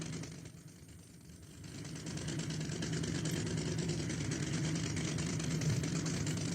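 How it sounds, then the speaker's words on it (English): A Baja buggy in the Offroad Outlaws video game idles with a low, constant engine rumble that swells slightly after a couple of seconds and then holds steady. "I don't even know if you guys can hear me with that engine running."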